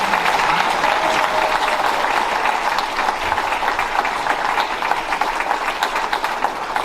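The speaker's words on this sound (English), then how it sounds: "we need to give a round of applause to the Malcolm Legion for the job they" Banquet guests at a 50-year celebration give a steady round of applause, a dense, moderately loud patter of many hands clapping that holds evenly throughout with no speech.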